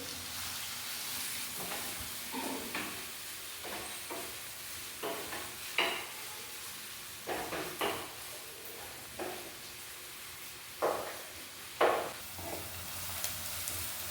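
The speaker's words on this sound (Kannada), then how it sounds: "ಈಗ ಆನಿಯನ್ ಅನ್ನು ನೀವು ಶಾಲೋ ಫ್ರೈ ಮಾಡಿ ಟ್ರಾನ್ಸ್ಪರೆಂಟ್ ಕಲರ್ ಬರುವ ತನಕ" Onion shallow-frying in a pan for a Kerala-style crab masala curry sizzles softly and constantly, broken by a string of scraping stir strokes at irregular intervals, close up with no voices.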